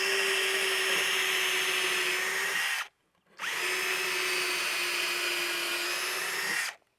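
A power drill boring holes for lag bolts on a privacy fence bracket runs in two steady, loud, continuous whines of about three seconds each, with a brief pause between them.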